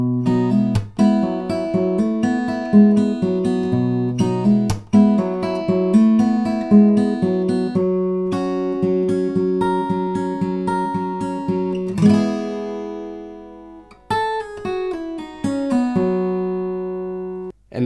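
Fingerpicked guitar playing the verse part 2 rhythm of a song, sustained notes and steady picked patterns with a brief pause near the end, played alone and close.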